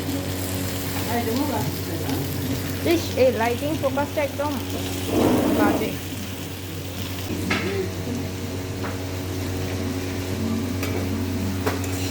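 Onion and cumin frying in oil in a home kitchen, a continuous crackling sizzle with a few clinks of a spoon and pan, heard under a low hum and some talking.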